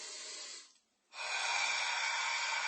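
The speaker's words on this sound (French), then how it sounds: "la respiration pilates, c'est une respiration en arrière-gorge" Pilates breathing drawn through the back of the throat: a steady, close breathy hiss, a brief pause, then a longer, louder throaty inhale.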